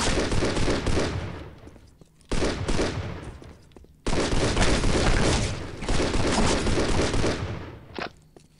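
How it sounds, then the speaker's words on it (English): Loud bursts of rapid gunfire from Postal 2, several sustained volleys of close automatic shots separated by short pauses, ending with a quick final burst. "Why are you shooting at me?"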